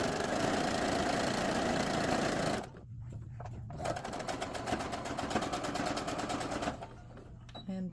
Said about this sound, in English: get a few stitches in to start, and back stitch to anchor that in place